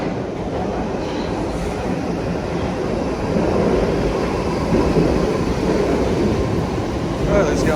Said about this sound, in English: Right, let's get on this train, get off at Piccadilly Circus.